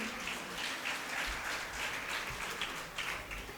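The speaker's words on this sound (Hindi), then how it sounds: "ताली बजा दो बच्चों के लिए।" Quiet, steady applause fills a Jain religious teaching class in Pune as the gathering claps for the children, a dense patter heard at a moderate distance with no speech over it.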